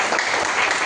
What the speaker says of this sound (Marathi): जे शिक्षक आहेत त्यांच्यासाठी खास टाळ्या वाजवा.